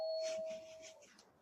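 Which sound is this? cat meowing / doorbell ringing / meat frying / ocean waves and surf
doorbell ringing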